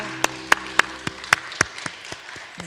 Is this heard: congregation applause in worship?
yes